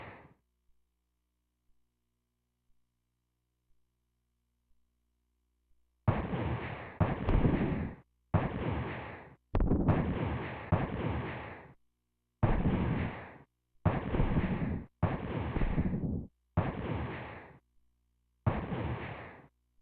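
Super Scope 6 light-gun shots and missiles exploding in a Nintendo game, heard as about ten loud, rough bursts of half a second to a second each, evenly spaced after a quiet start, with no talking.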